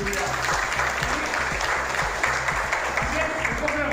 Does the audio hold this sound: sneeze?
no